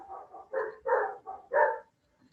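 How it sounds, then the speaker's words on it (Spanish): A dog barks in a quick series of about five harmonic yelps over roughly two seconds, fairly close and loud, then stops. "por los ladridos del perro, y Firulais está haciendo bulla"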